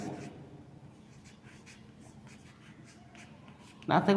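A marker or chalk makes short, scratchy strokes on a board during a lesson, with a quiet voice faintly underneath and a louder bump at the end.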